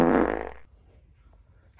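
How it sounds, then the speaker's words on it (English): A loud cartoon fart blasts at the start, a wet, buzzing rasp that fades out within about half a second, leaving near silence before a faint sound at the end. "How does he even fart like that?"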